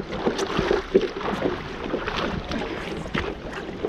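Kayak paddle strokes dip and splash repeatedly in open water off Turks & Caicos, with choppy sloshing and light wind buffeting the microphone, close and steady throughout.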